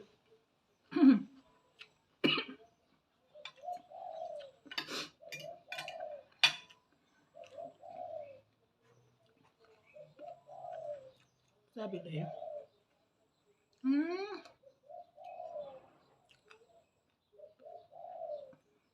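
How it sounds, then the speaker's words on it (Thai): Doves coo in a repeating rhythmic phrase, moderately close, with someone talking intermittently over them and occasional clinks. "กินไปนกเขาขันจุกกรู จุกกรูนะ"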